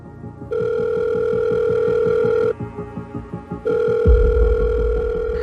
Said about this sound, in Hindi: उसने जल्दी से अपना फोन लिया और किसी को कॉल किया।